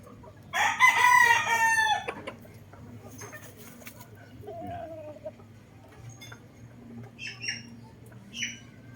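A Boston roundhead gamefowl rooster, a broodcock, lets out one loud, close crow early on, followed by quieter clucks and squawks with faint background chatter.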